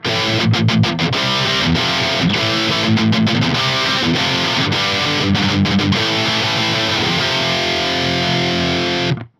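A heavily distorted electric guitar through a high-gain amp, without a pedal, plays chugging rhythm riffs with sharp palm-muted stops, loud and close, ending abruptly.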